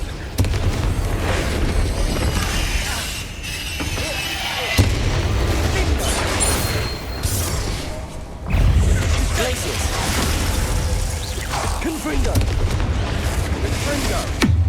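Repeated Confringo fire-spell blasts from the Hogwarts Legacy video game, loud booming explosions in quick succession amid a busy battle with spiders, with a voice talking over parts of it.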